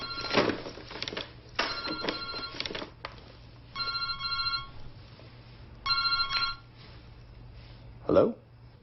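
A cell phone rings indoors in repeated electronic bursts separated by short pauses, clear and moderately near, with a short voice sound at the end.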